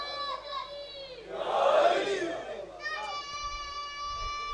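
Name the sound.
children shouting slogans at a religious gathering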